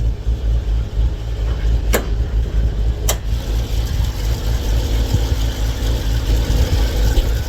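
A rebuilt car engine idles close by, with a new water pump and alternator fitted, giving a steady, loud low rumble with an even pulse and two sharp clicks early on, with no voices.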